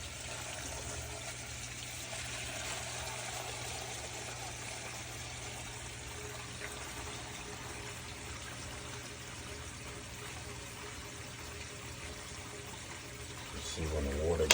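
A water-powered emergency backup sump pump discharges water, giving a steady rushing, pouring wash with a low hum underneath, continuous and fairly close, growing louder right at the end.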